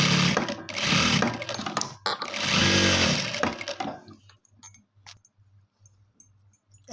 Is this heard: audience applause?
no